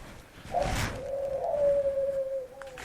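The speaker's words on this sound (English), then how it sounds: "That's a bird." A pet parakeet gives a single drawn-out whistling chirp, clear and fairly close, in an otherwise quiet room.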